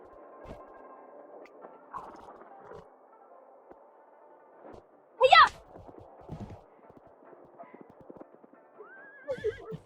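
A horse gives one loud, shrill whinny midway through, with light clip-clopping hooves and rustling around it, while a voice speaks quietly in the background.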